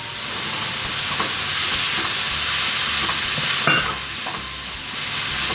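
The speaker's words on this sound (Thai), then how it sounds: "เราต้องผัดให้มันเข้ากับเนื้อหมูก่อน" Tofu and pork stir-fried in Sichuan mala sauce sizzle steadily in a hot pan, with a continuous loud frying hiss, faint scraping stirs and a brief sharper clatter partway through.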